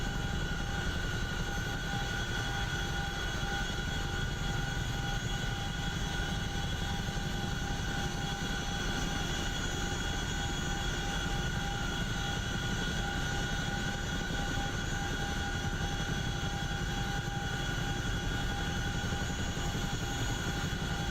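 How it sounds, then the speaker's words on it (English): A CH-47 Chinook helicopter in DCS World lifts off, its steady engine and rotor roar a loud, continuous drone with constant tonal whine held throughout, no voices. "Let's go ahead and take off again."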